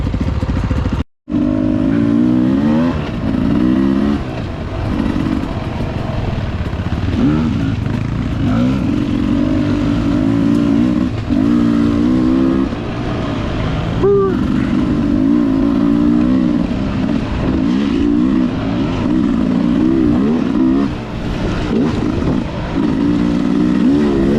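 A Beta 300RR two-stroke dirt bike ridden along the Tomahawk trail, its engine loud and close throughout, revving up and down in repeated surges, with clattering over rough ground.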